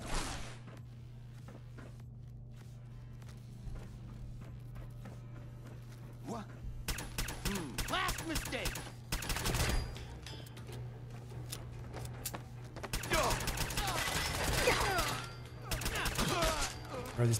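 A 10mm pistol fires in Fallout 4, several quick clusters of sharp shots against a steady low hum, fairly quiet overall, with someone talking between the bursts.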